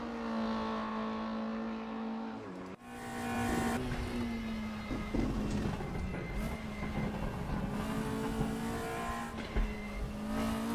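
Scirocco race car in a racing video game lapping Bathurst, its engine droning loud and steady with rising and falling pitch through gear changes, a brief dip near three seconds, then continuous revving and tire noise throughout.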